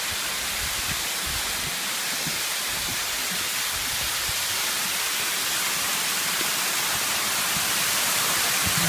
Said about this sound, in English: Now this must be the final third waterfall.